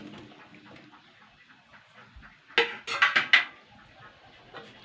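Fried onion, tomato and capsicum plus chicken pieces are tipped into a cooking pan for chilli chicken, making a cluster of close clattering, scraping knocks over a few seconds against faint kitchen background.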